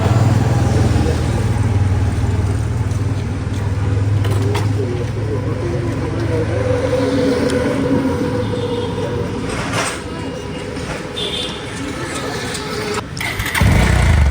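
A motorcycle, just sold and leaving a showroom, with a loud close engine that starts with a low rumble and holds a steady drone as it pulls away, ending in a sharp burst.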